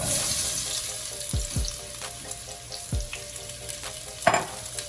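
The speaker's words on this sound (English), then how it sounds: "I'm going to add some oil. Very hot. Next I'm going to add our potatoes." Potatoes added to very hot oil for a vegan spicy coconut curry, a continuous frying sizzle with a few low thuds and utensil clicks as they settle and are stirred.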